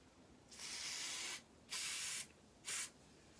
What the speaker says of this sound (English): So I'm going to use this, spray around these edges,